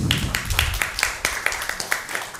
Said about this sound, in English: That is applause for God.